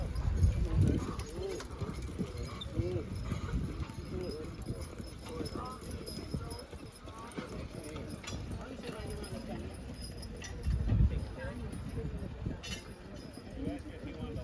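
Horses hitched to a wagon at a horse pull and wagon drive clop their hooves in an irregular close rhythm, with people talking over them and occasional jingling of harness.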